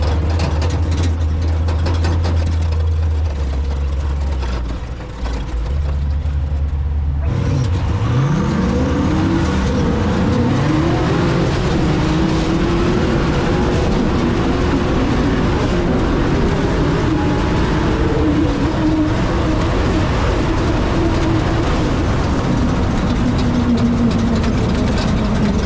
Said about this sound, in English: It appears we're going to be making another run with that nice Tatum